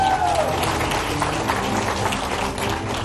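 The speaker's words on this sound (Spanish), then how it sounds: "Un aplauso para don Ignacio." A studio audience on a Spanish-language talk show applauds in a thick, continuous wash with some crowd noise, holding steady for a few seconds.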